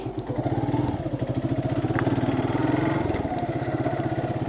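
A motorcycle engine thrums with a rapid, even pulsing beat during a ride, close and steady throughout with no voices.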